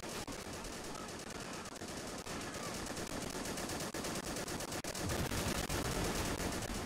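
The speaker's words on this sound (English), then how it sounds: "Oh, they have mortars." Mortar fire and a battle in the Arma 3 Battle for Shuri Castle scenario, heard as a dense, continuous rattle of gunfire with scattered sharp reports throughout.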